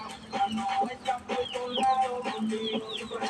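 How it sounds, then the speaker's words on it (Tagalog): Native chickens cluck and murmur together indoors, a steady overlapping run of short clucks from several birds close by, with no talking. "Ayan ang mga chicken."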